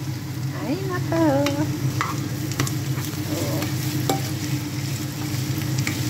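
Pancit noodles stir-fried in a pan, with a steady sizzle and scraping stirs running throughout, close and fairly loud; a few brief voices and background sounds come and go over the frying.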